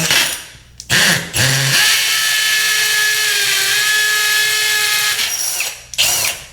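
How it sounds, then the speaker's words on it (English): A power drill whines loudly and steadily, boring a hole through a brick wall's mortar for a dryer vent for several seconds, and stops, with short bursts at the start and end. "we need to drill a hole or a series of holes"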